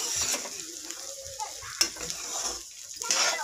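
Green peas are stirred and fried in a pan with a close, steady sizzle, broken by scraping utensil strokes and one sharp clink partway through, with no voices over it.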